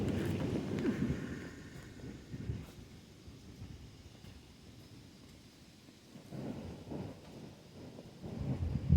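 Gusty wind picking up outdoors on a homestead ahead of a summer storm, rushing and buffeting in surges that ease off midway and then build again, loud and close.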